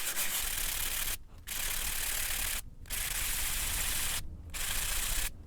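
Sanding a signet ring by hand to remove marker marks, a close, continuous gritty rasp in long strokes broken by three brief pauses.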